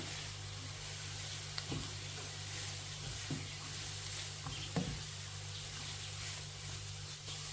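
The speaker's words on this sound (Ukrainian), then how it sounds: "перемішую і жарю або смажу все разом" Steady sizzle of vegetables frying in oil in a pan, with a few faint scraping stirs against a low constant hum, no talking.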